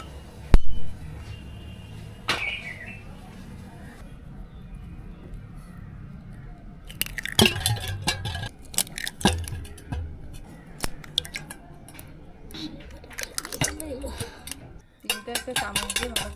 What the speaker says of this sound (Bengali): প্রথমে এই ডিমগুলো একটা পাত্রে ভেঙে নেবে।